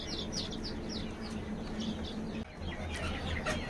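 Flock of about 50 poultry chicks, 21 days old, peeping and clucking continuously at close range, with overlapping high chirps over steady farm background noise.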